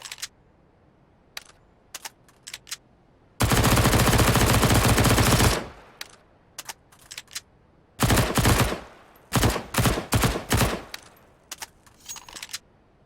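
New MP9 submachine gun sound from the Counter-Strike: Global Offensive update: a loud sustained full-auto burst of about two seconds, then several shorter rapid bursts, with sparse clicks and handling noises in between.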